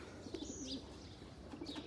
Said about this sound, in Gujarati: અને હવે એને આપણે કબૂતરને ઉડાડવાના છે